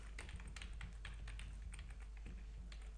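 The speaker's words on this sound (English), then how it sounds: "So here I type my name" Keys clatter on a computer keyboard in a fast, steady run of close, crisp taps while a name is entered into an Outlook mail account setup form, with no voices.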